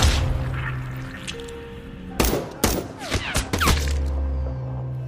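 A rapid volley of gunshots cracks out in a cluster of loud sharp bangs over a steady low rumble, then the background hum continues.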